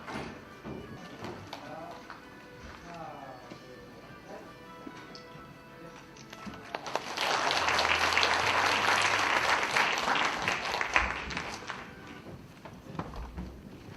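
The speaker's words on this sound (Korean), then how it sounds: "다시 한번 큰 격려의 박수 부탁드리겠습니다" Audience applause at a Busan atopy and asthma prevention program ceremony swells midway into a loud, full round of clapping for several seconds, while a speaker's voice is heard before and after it.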